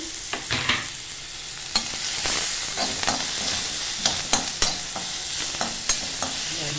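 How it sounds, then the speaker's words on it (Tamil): Onion and okra sauté in a pan for a poriyal, with repeated scraping stirs over a soft, steady sizzle and no talking. "பொரியலுக்கு வெங்காயம் வெண்டைக்காய் போடணும். நல்லா வதக்குங்க."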